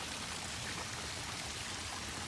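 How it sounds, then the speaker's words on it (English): Water flows steadily in an outdoor fountain, a soft, continuous splashing rush at low volume with no voices or breaks. "look at that beautiful fountain"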